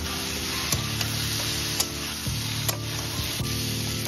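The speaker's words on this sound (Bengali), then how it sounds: "ভাজা আলুটা দিয়ে দিলাম, দিয়ে আবার একটু কষাবো।" Fried potatoes and paneer sizzle loudly in a pan as they are stir-fried, a constant hiss broken by several sharp scraping stirs, with no talking.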